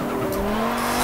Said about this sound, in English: I do lock up the tyres a lot going into that first corner